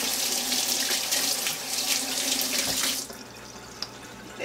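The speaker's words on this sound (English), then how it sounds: "Let me rinse my hand just a little." Water runs steadily from a kitchen sink tap as a hand is rinsed during cake baking, loud and continuous for about three seconds before it shuts off, leaving quieter room sound with a few small drips.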